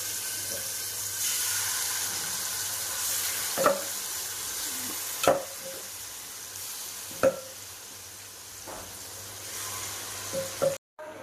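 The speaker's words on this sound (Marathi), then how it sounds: "तवा गरम झालाय तर आपण त्याच्यामध्ये तूप टाकलाय म्हणजे चिकनचे पीस टाकणार आहे" Chicken pieces fry in ghee on a hot tava, a steady, close sizzle broken by a few sharp clinks and knocks from stirring.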